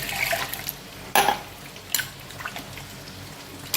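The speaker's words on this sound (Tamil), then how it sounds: "தக்காளி பழத்தை அரைச்சிட்டு வந்துட்டேன் போட்டுக்கேன் அது கூட கொஞ்சம் தண்ணி ஊற்றி போட்டுக்கேன்" Water poured into ground tomato paste in a pot for Tamil-style chicken curry, heard as a few short splashy bursts and trickles with kitchen clatter, no talking.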